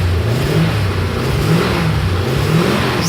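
1973 Rover P6 3.5 V8 engine cranking sluggishly before catching and running, a loud continuous low rumble with a labored, uneven churn up close.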